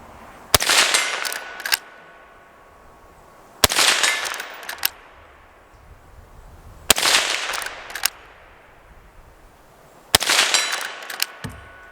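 Four loud, evenly spaced shots from a Henry .22 Mag rifle firing CCI Maxi Mag rounds at a 100-yard target outdoors, each crack followed by a short echo and quiet pauses.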